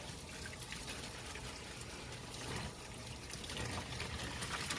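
Dyed yarn swished by hand in a basin of soapy rinse water with dish soap, giving a steady close-up slosh and trickle of water that runs continuously with no talking.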